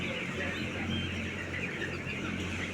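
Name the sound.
young poultry chicks on a chicken farm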